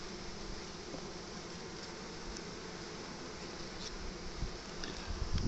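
Honey bees drone steadily around an open beehive during a hive inspection, a continuous close buzzing that fills the whole stretch with faint handling noises underneath.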